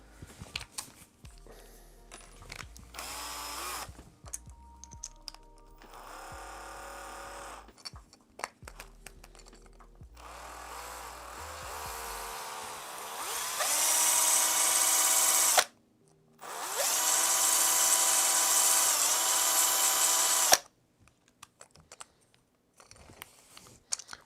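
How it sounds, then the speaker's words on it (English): Power drill in 3D-printer assembly for a VORON v0.1 build, whirring in bursts of rising and falling pitch, with two long loud runs near the middle of the sequence, close by, without talk. "Spin it with the drill."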